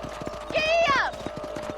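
A horse gallops in Red Dead Redemption, with steady rhythmic hoofbeats throughout and a brief whinny and a voice rising over them midway.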